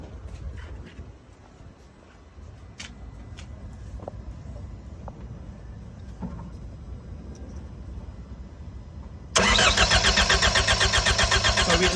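A diesel engine on an MCR cranks with a fast, steady mechanical chatter but never catches, held back by low fuel pressure, after a long stretch of quiet background noise with faint clicks.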